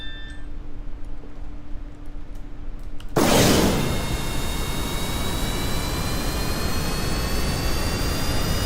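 Jet engine of an aircraft in Kerbal Space Program, a faint steady hum that suddenly jumps to a loud, full roar, then holds as a constant broadband rush with rising whine tones.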